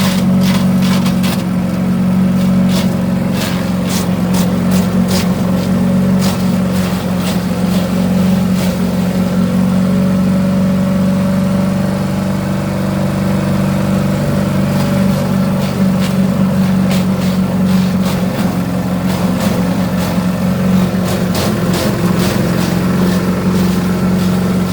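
A Predator 6.5 Harbor Freight chipper shredder chews a branch and pulls in leftover leaves, its loud steady engine drone running throughout with rapid crackling and snapping of wood on top.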